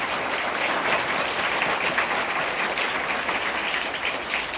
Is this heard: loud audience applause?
yes